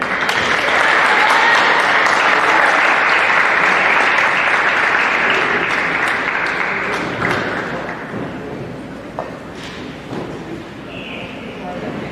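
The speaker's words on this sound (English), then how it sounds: "let's have a nice big round of applause for our seniors" A crowd in a school gym at a basketball game applauds its seniors with loud, sustained clapping that fades gradually over several seconds, with scattered louder claps and a few cheers near the end.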